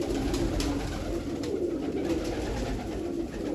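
Pigeons coo steadily through a continuous low murmur, several birds overlapping in a soft rolling drone at moderate volume with no talk over it.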